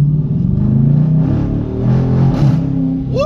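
A Dodge Challenger Hemi with a new exhaust revs loudly up close, its deep, throaty rumble held steady before climbing sharply at the end.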